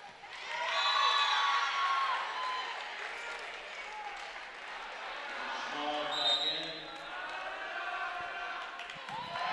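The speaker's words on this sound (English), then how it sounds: "this Forest Lake crowd, you can hear them" Forest Lake home crowd at a high school varsity volleyball section tournament against Duluth Denfeld, a loud sustained roar of cheering and clapping in a gym, swelling early and again midway, with an announcer's voice over it.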